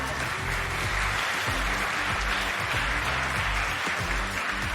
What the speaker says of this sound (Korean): 여러분 다시 한번 힘찬 박수 보내주시길 바랍니다